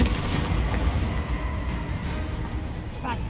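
A Confringo explosive spell in the Hogwarts Legacy video game goes off as a rumbling, booming blast amid ongoing loud game noise, with a voice speaking over it.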